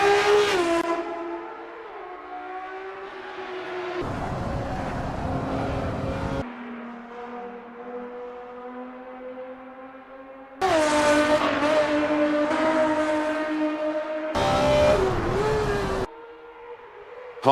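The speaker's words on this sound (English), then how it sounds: "Heading into the next straight, the Pegasus screams at full throttle." A Pegasus race car screams at full throttle on a racing circuit, its high-pitched engine note rising and falling through sharp gear changes and bursts of revs, loud and close with no talk.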